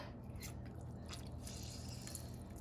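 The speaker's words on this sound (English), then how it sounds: "Squeezing our lemons cut side up." Lemons squeezed cut side up while making basic hummus give short, faint wet drips and squishes, a few soft liquid spurts over a quiet background.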